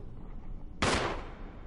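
A single gunshot in the video game Resident Evil 1 Remake cracks out sharply after a quiet ambient hum, then fades into a short decaying tail.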